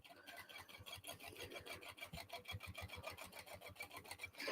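A sewing machine runs a second row of stitching around a crossbody bag, its needle thumping in a fast, regular rhythm, close and continuous.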